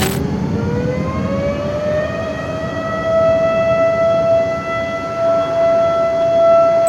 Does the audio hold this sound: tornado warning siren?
yes